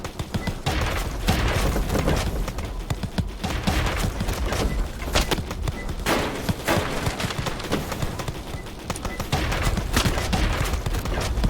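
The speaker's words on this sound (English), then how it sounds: "I can't do commentary with Edward shooting at me" Edward the Man-Eating Train opens fire on the player in a video game, a relentless barrage of loud gunshots and booming thuds rattling nonstop from start to finish, with no talking.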